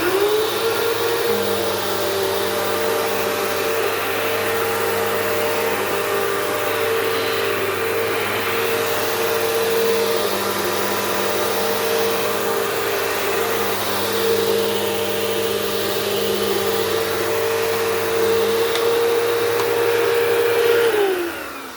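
A household upright vacuum cleaner runs on carpet, a loud steady whine and motor hum held for about twenty seconds with slight shifts as it is pushed back and forth, then cutting off at the end.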